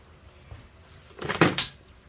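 A sliding cabinet door on a wall-hung vanity, with a faint knock and then a short rolling slide that ends in a soft bump, close by in a quiet room.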